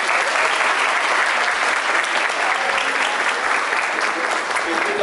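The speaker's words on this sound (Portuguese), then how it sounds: "Salva de palmas, gente" At a wedding ceremony for Ida and Julio, guests break into loud, continuous applause, dense and even for the full length with a bit of crowd murmur mixed in.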